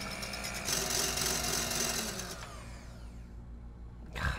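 Electric mixer fitted with a whisk attachment whipping eggs toward peaks in a boat's galley, a steady close motor whir that runs loud for a couple of seconds, then winds down and fades, followed by a short clatter.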